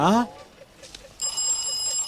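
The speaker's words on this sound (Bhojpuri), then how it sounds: "लागता भैया के फोन आइल" A brief voice, then a phone rings with a steady, bright electronic ringtone that keeps sounding to the end.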